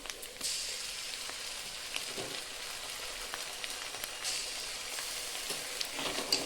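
Ginger-garlic paste sizzles in a pan of fried onions while a fish curry is cooked, a steady, fairly close frying hiss with small crackles and spatters running throughout, no voices.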